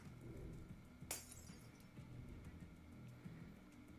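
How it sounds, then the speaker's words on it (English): A sharp crash of breaking glass from a glass structure in a video game, a single bright burst over a low, steady ambient game soundtrack. "It must be the sound of the glass structure breaking."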